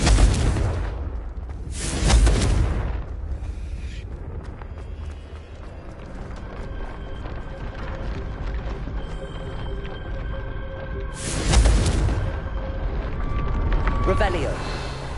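Confringo fire spells burst in Hogwarts Legacy, two loud, close explosive blasts spaced several seconds apart, each with a broad crackling roar, and a low rumbling game ambience between them.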